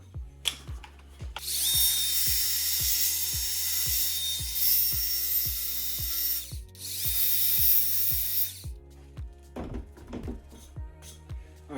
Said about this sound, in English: 40 seconds to polish this tile